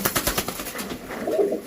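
Native country pigeons coo in a low, rolling run of repeated pulses at close range, with a brighter call rising near the end.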